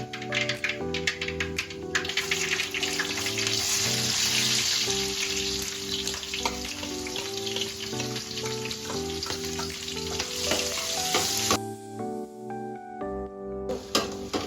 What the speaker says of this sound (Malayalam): ഇഞ്ചി, വെളുത്തുള്ളി, പച്ചമുളക് അത് നമ്മൾ ഇതിനകത്തോട്ട് വഴറ്റാൻ പോയാണ്